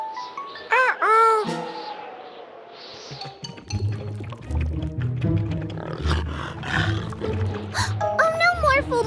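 A cartoon tiger roars in a children's animated show, with loud, wavering animal cries up front, followed by busy music and sound effects while people talk throughout.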